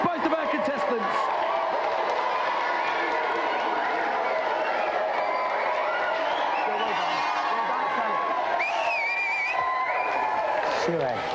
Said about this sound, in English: Let's have a big round of applause for both of our contestants.